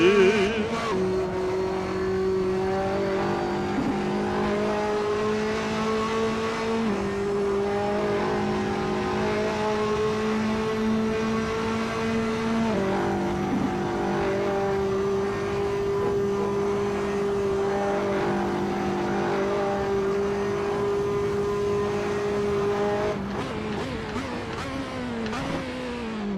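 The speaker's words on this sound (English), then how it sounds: "I can hear the engine going." Racing video game car engine drones continuously with steady whining tones that step up and down as gears shift, loud and sustained throughout, damaged car, no talk over it.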